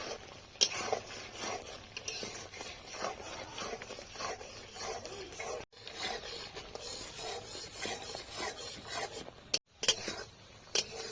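Spoon scraping and stirring thick green chilli tamarind chutney in a pan, a steady close rubbing and rasping texture with soft clicks, continuous for several seconds with two brief pauses.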